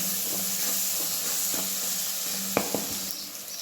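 Masala roasting in a pan for a spicy mixed vegetable dish, giving a steady close sizzle and hiss with a few sharp scrapes of a spoon stirring near the end; no talking.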